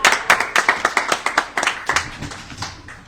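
Audience at a farm's Groundhog Day celebration clapping for the staff, close and loud, with distinct rhythmic claps in a quick series that thin out and fade toward the end.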